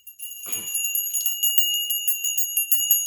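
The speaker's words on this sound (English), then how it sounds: "Let me ring this bell." A bright bell rings out with a sharp strike, its clear high tones sustaining and shimmering through the rest of the clip.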